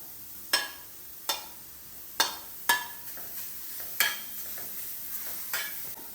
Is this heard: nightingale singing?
no